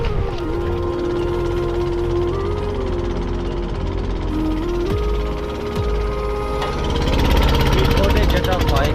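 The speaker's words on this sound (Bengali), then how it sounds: "স্পিডবোটে যেটা হয় এখানে ঢেউয়ের সাথে সাথে মিল করে যেতে হয়।" A speedboat's engine drones loud and steady, close by, as the hull rides over waves on the way to the deserted Daruchini island near Saint Martin's Island, with a surging rumble beneath a constant whine.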